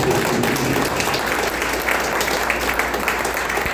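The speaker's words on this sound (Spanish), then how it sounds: "Dale fuerte ese aplauso." A church congregation applauds during a sermon, a steady, full wash of many hands clapping at once, loud and close, lasting throughout with faint crowd noise beneath and no distinct speech.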